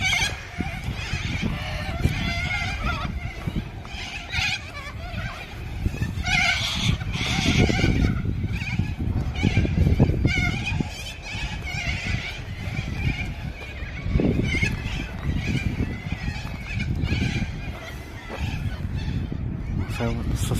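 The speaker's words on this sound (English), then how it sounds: "plenty of bloody birds" Many birds calling near a bridge at Carrington, Newcastle, a dense mix of honking and squawking calls, some loud and close, sounding continuously over outdoor ambience.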